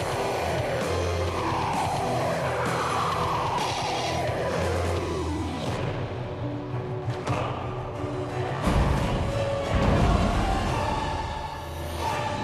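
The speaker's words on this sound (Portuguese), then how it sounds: "Um carro de cor branca acaba de ser interceptado por viaturas da Delegacia" A white car is intercepted by police vehicles at night in São João de Meriti, Baixada Fluminense, with steady engine and traffic rumble, tire noise and a louder burst of movement near the end.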